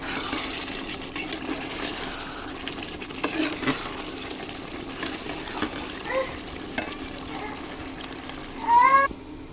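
Chicken bhuna sizzles and sputters in a pan while being stirred, with scraping strokes and bubbling spits, and a brief louder splash of sizzle near the end.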